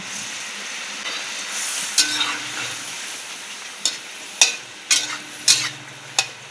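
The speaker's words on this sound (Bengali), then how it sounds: "ঝোলটা আমার ফুটে গেছে এবারে আমি ভেজে রাখা মাছগুলো দিয়ে দেবো" Fried hilsa fish pieces dropped into boiling mustard gravy, a soft steady simmering hiss broken by several sharp splashes and spatters as each piece goes in.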